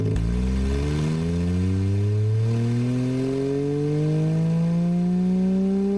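A simulated car engine in the Engine Sim game revving on a dyno, its tone climbing steadily and continuously from a low rumble to a higher, buzzing whine, loud and sustained throughout.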